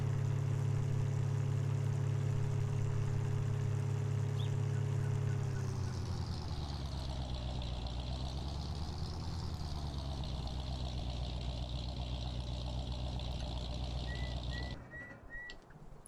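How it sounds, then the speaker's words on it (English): A new pickup truck engine runs while driving: a strong low drone that shifts and rises in pitch as it pulls away and cruises, steady for most of the time before cutting off near the end. "here's the sound when you drive around"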